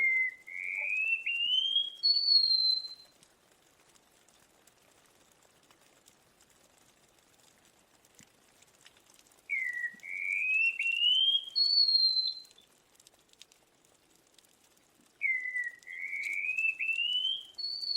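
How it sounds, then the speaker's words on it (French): Wallcreeper song on a cliff: three separate phrases of thin, upward-sliding whistles spaced several seconds apart, fairly faint, with quiet pauses between them. "le Ticodrome échelette."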